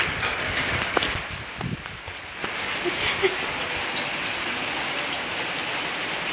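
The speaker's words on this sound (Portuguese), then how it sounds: "Olha a chuva, gente." Steady rain falls outdoors, a dense, continuous patter on surfaces that holds at an even level throughout.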